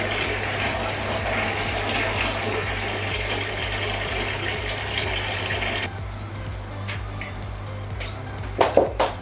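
Aquarium water from a four-foot open-top river tank runs steadily through a siphon into a bucket, a continuous hissing gurgle that turns thinner partway through, then ends with a few splashy slurps near the finish.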